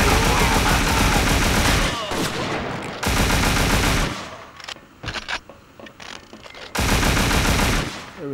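Heavy automatic gunfire and rapid bursts from a crime shooter video game set in Scarface: The World Is Yours, loud and dense, cutting out briefly then resuming in sustained volleys with scattered single shots between.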